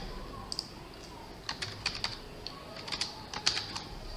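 Someone types on a computer keyboard in short bursts of crisp clicking keystrokes, close and moderately quiet against a faint steady hiss, with no voices.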